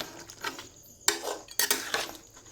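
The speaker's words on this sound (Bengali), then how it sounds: "ভালো করে আমি নেড়ে দেব পুরো ভালো করে মিক্স করে নেব" Duck meat stirred with ginger and garlic in a pot: a few sharp metallic scrapes and clinks of a spoon against the pot, spaced irregularly over a soft background, with no voices.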